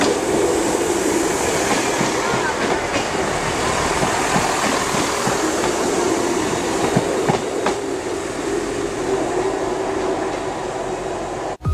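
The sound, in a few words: Class 158 train 158816 at Leeds station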